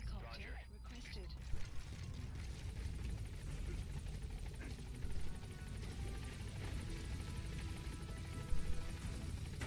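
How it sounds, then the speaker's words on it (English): A support helicopter in Metal Gear Solid V arrives with a steady rotor drone and engine rumble under a game soundscape, with a voice talking over it. "Support helicopter requested."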